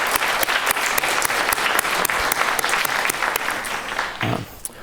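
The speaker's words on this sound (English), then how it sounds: "let's give all of our sponsors a round of applause" Conference audience applauding its sponsors, a full steady burst of many hands clapping that holds evenly for several seconds before thinning out and fading at the end.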